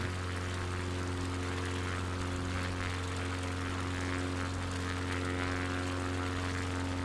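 A small propeller plane's engine in a flight simulator game on an alpine bush trip drones steadily and loudly with a constant pitch, unbroken throughout with no voices.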